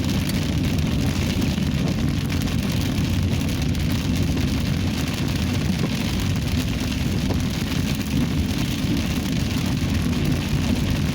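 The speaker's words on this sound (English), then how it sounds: "I think we might get some more rain today" Steady rain falls outdoors on a Labor Day weekend in Bullhead City, a dense, even hiss that stays unbroken and fairly loud throughout, with no voices.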